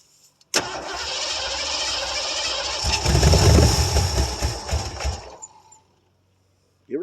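A 1973 Ford Gran Torino Sport with a 351 Cleveland V8, off the road for 30 years, cranks briefly, then catches and runs, swelling into a rough rumbling roar before cutting off abruptly, close and loud.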